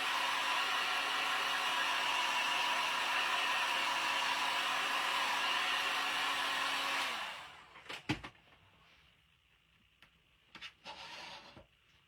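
A hair dryer blows steadily at close range to dry paint on repurposed wall decor, then shuts off after about seven seconds, leaving a few handling clicks and knocks.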